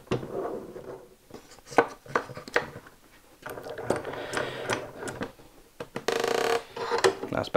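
Clamp being fitted and tightened on a glued wooden planter frame: irregular clicks, knocks and ratcheting scrapes of metal against wood, close and moderately loud, with a denser grinding burst near the end and no talking.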